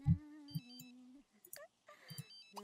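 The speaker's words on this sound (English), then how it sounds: "This phone is ringing." Phone ringing in the video game The Sims 3, a short melodic electronic ring with chiming tones mixed with soft game sounds, fairly quiet with no talking over it.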